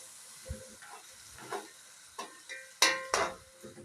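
Garlic frying in a pan, heard as soft sizzling with a few sharp bursts and scraping stirs that come and go, close and fairly quiet, with no talking.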